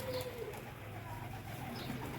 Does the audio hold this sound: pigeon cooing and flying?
yes